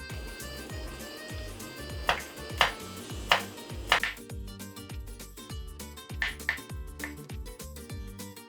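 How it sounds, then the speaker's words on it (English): A knife slices peeled garlic cloves into thin slices for Spanish garlic soup, giving a handful of crisp, separate cuts in two short bursts over steady background music. "Cut the garlic cloves into thin slices"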